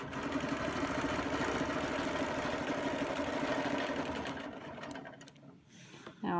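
A sewing machine stitches a quilt along the edge of a ruler, a steady rapid mechanical whir running nearly the whole time before it slows and stops near the end.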